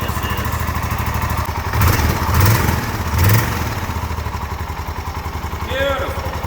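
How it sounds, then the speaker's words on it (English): A Suzuki 650 motorcycle engine idles with a low, steady, even rumble heard up close, swelling slightly in a few brief blips while a person talks over it. "the engine, when you fire it up, sounds nice"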